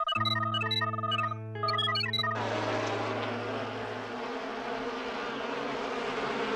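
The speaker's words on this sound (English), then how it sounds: "They won't bother you if you don't bother them. I mean, they're just bees." A few electronic beeping tones sound first, then a dense swarm of bees buzzes steadily and fairly loudly, continuing alone to the end.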